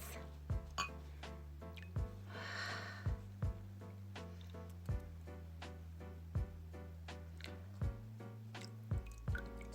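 A makeup brush is rinsed in water with small drips and splashes at a steady rhythm, close and fairly quiet, with a hum underneath and no voices.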